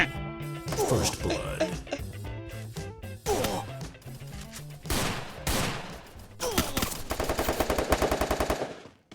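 Gunfire from the video game Free Fire fills the whole stretch. Rapid automatic bursts come in several loud, close volleys separated by short gaps, and the last is a long, fast rattle.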